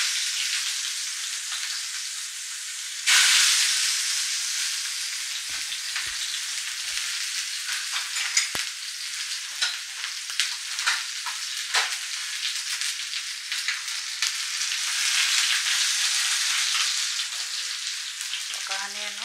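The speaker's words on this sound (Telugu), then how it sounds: "హీట్ అయిన ఆయిల్లో కట్ చేసినటువంటి ఆనియన్స్ వేసుకుందాము." Chopped onions hit hot oil with a sudden loud burst of sizzling, then settle into a steady crackling fry with scattered pops and occasional stirring, close and continuous for a long stretch.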